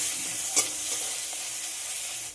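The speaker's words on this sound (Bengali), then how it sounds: "আদা রসুনের যতক্ষণ না কাঁচা গন্ধ চলে যায় ততক্ষণ একটু ভেজে নিলাম।" Grated ginger and garlic frying in oil for a masoor dal, a steady hissing sizzle with a single sharp spatula tap early on, continuous and fairly close.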